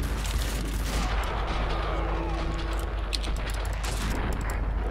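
Heavy gunfire in the Max Payne video game, a dense continuous roar of shots and rumble that stays loud and close throughout with no talking.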